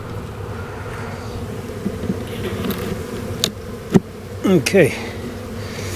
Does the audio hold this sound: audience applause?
no